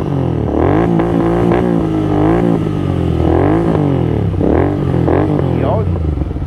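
Royal Enfield Continental GT 650 parallel twin fitted with a replacement, louder muffler, revved hard several times in close succession, the engine note rising and falling in repeated throttle blips up close.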